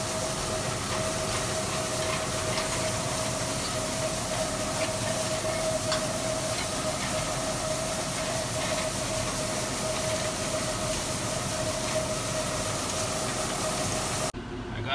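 A tractor pulls a hay rake slowly at low RPM through a damp alfalfa field, giving a steady, loud, continuous engine drone with a faint tonal hum that runs unbroken until it cuts off at the end.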